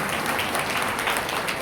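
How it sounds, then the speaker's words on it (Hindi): Steady, dense applause from the audience at a Hindi poetry gathering (kavi sammelan) fills the whole short moment, loud and continuous without any voices over it. "जोरदार तालियों से विदा कीजिए"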